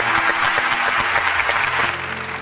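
Loud, steady audience applause fills the whole stretch as a studio crowd at a televised Quran show claps for air force pilots, dense and continuous with no talk over it.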